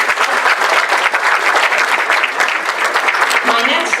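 A school graduation audience bursts into loud, dense applause indoors, a steady wash of many hands clapping close by that holds for several seconds.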